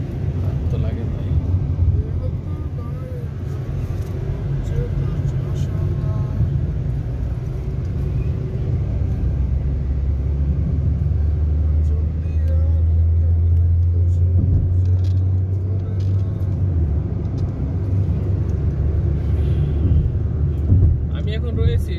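A car drives along the Dammam–Al Hasa highway, giving a steady, close road rumble and engine drone that swells slightly midway through. Someone talks over it.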